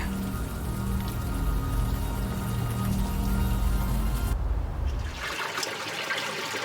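Steady rain pours down in the game Unavowed, a dense broadband hiss that continues until it drops away near the end, leaving a softer wash.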